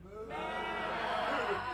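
A crowd at a live blues band gig imitates sheep, many voices bleating together in a wavering, sustained chorus that swells and holds for over a second.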